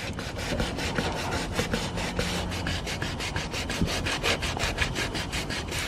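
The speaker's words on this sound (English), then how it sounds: "Back to sanding." Hand sanding of fresh clear coat on a Honda EG car roof, a close, rapid back-and-forth rasp of paper on the panel in a steady stroke rhythm, heard alone.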